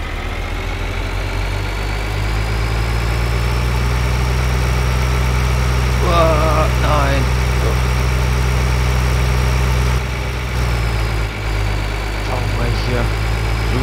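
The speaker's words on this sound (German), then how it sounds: "Mähdrescher." A combine harvester engine idles in Farming Simulator 2013, a steady, loud low drone with a constant hum that runs unbroken through the whole stretch. A brief voice-like murmur rises over it midway.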